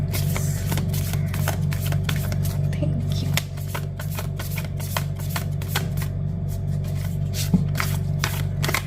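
Tarot cards shuffled by hand for a reading, a continuous close riffling and flicking of card edges with rapid repeated snaps, steady throughout with no talk.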